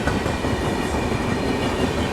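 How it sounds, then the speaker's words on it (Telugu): Telangana Express passing along the adjacent platform at Hazrat Nizamuddin station without stopping, a loud, steady rumble of wheels and carriages with rhythmic rail clatter running continuously and close by. "అటు చూసుకుంటే పక్క ప్లాట్ఫామ్ మీద నుంచి తెలంగాణ ఎక్స్ప్రెస్ అయితే హజరత్ నిజాముద్దీన్ రైల్వే స్టేషన్ని స్కిప్ చేసుకొని వెళ్ళిపోతుందండి"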